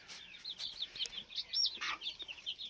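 Three-day-old native Asheel-type chicks peep in quick, high, repeated calls with occasional soft clucks, fairly faint and close, on a small poultry farm setup.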